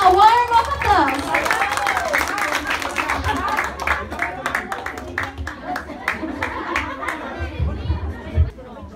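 Guests at an 18th birthday debut party clap in a loose, scattered patter of individual hand claps, with chatter and voices over it and a small crowd nearby.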